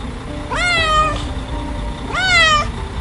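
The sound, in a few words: cat meowing in a cartoon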